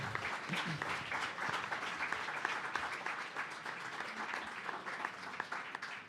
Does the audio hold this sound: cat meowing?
no